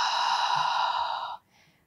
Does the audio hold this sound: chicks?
no